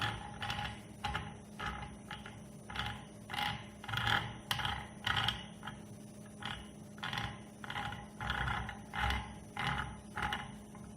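The wheel of a KBr hydraulic pellet press is tightened by hand, giving a rhythmic series of metallic ratcheting clicks, roughly one every second, near and fairly quiet against a low hum.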